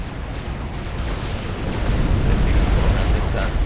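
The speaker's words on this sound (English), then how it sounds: "Still getting bombed, no air support." Bombing explosions rumble across a Supreme Commander battlefield, a dense, continuous low roar of blasts that swells louder partway through and stays heavy to the end.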